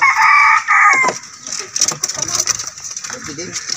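A red junglefowl rooster crows loudly up close in Agoncillo, Batangas, followed by scattered clucking from several hens nearby.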